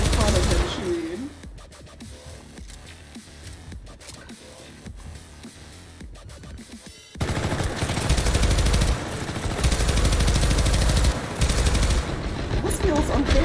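Video game gunfire: rapid automatic shooting bursts over a dense background of game noise, growing louder and more intense in the second half, with talking mixed in.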